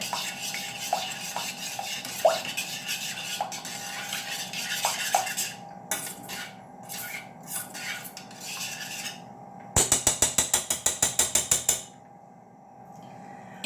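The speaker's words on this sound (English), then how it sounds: "Now we're going to stir it up a bit." Butterscotch cake batter stirred in a bowl, with repeated scraping and clinking of a utensil against the bowl, then a quick burst of rapid rhythmic tapping before it quiets, close and without talk.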